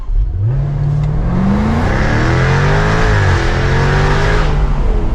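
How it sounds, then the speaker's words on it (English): A 2024 Jaguar F-Type R75 AWD convertible with a V8 accelerates hard from a standstill. Its engine revs rise steadily in a loud, continuous roar heard close from inside the car, without any speech. "Jaguar F-Type V8."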